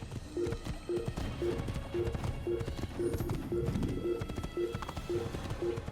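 Rhythmic hoofbeats clop steadily at a galloping pace in Assassin's Creed, regular and fairly close, over a busy layer of game background sound.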